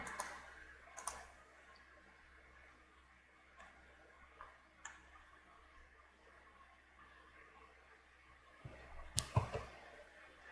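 Sparse, faint computer mouse clicks while working in CAD software, with isolated single clicks spread out over a quiet room background.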